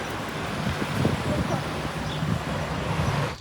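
Road traffic passes through a Swiss village as a steady, fairly loud wash of car noise with a few louder swells, heard under a speaking voice.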